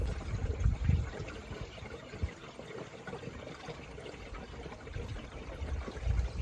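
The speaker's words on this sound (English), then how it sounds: "Can you hear that sound of water in this big tire?" Water sloshing and gurgling inside a large John Deere tractor tire while it is being inflated on a farm, a low, muffled, steady churning heard up close with no talk.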